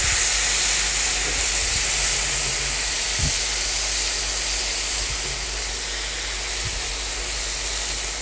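Chopped tomato sizzling in a hot pan with roasted peanuts for Gujarati-style dal dhokli, a steady loud hiss of frying running the whole time with a couple of faint clinks.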